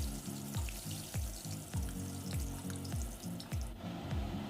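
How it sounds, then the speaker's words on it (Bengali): Fish pieces fry in hot oil, a steady close sizzle with repeated bubbling bursts and a faint scraping of a utensil, with no talking. "বাকি মাছের টুকরোগুলো আমরা একইভাবে ভেজে তুলে নেব।"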